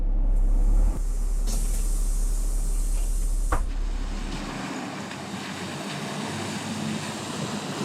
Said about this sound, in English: Like any city bus, the vehicle starts off very smoothly and slowly.